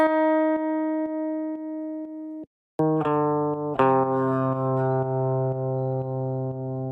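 Dry, unprocessed layered guitar parts for an organic house track: a clean plucked melodic line first, then after a brief gap a fuller stack of sustained chords and notes ringing together, steady and close with no effects.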